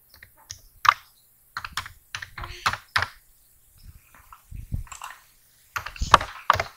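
Someone types a password on a computer keyboard while setting up a Gmail account: uneven bursts of close, crisp key clicks with short pauses between the runs, and no talking over them.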